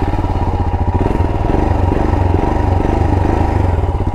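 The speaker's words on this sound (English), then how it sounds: "That's the sound of that long stroke engine." A Royal Enfield Himalayan motorcycle's long-stroke single-cylinder engine thumps at a steady, loud idle, its rapid regular pulses close and alone without talk.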